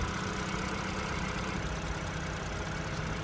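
A 2022 Hyundai Tucson SEL's 2.5-liter engine idling with the hood open, a quiet, steady low hum and faint mechanical whir, alone with no talk.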